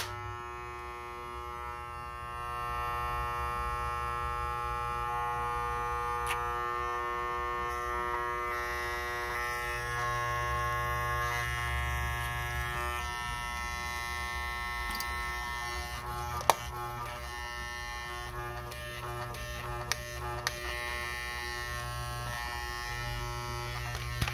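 A corded Magic Clip hair clipper, cleaned and lubricated, buzzes steadily and evenly for the whole stretch, with a few faint clicks near the end as it is handled.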